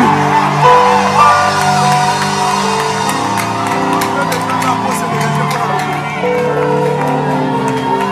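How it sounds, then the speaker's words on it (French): A church congregation cheers and acclaims loudly during worship, with shouts, whoops and crowd voices over sustained music, energetic and continuous throughout. "nos acclamations là ne suffisent pas"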